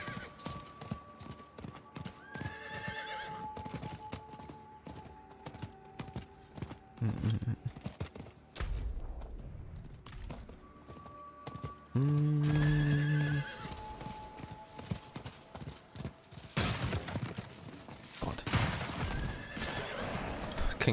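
Diablo IV horse hooves clip-clopping at a steady gallop, with a loud whinny partway through, over background game sounds and music.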